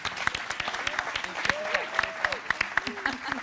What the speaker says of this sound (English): So how about another round of applause for Lacey Bell?